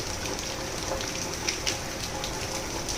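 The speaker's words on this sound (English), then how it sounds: "It's raining, just like, I can't explain the rain." Steady rain falls in a Florida backyard in Largo ahead of an approaching storm, a continuous hiss with a few sharper drops pattering nearby.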